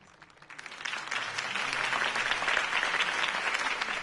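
A crowd applauds after Harvey Dent's campaign speech in Batman: The Telltale Series, the clapping swelling within the first second into a dense, steady ovation that holds to the end.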